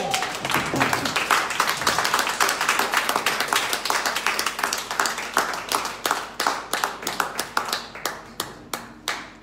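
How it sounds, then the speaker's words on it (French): A church congregation claps together in praise, a dense, steady, rhythmic beat of many hands that thins into more spaced, distinct claps toward the end. "Donner un applaudissement au Seigneur"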